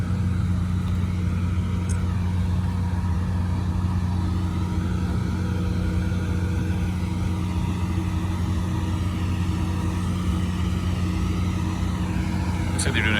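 A backup generator running during a routine test outdoors on a campus, a loud steady low engine drone throughout with a constant hum, as a person speaks over it.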